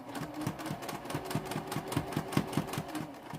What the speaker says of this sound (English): we're just stitching this down so it doesn't shift while we sew it to the gusset